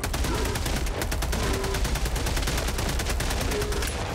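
Heavy machine gun in Helldivers 2 firing continuously in a rapid, steady stream, loud and close, with only a brief break near the start.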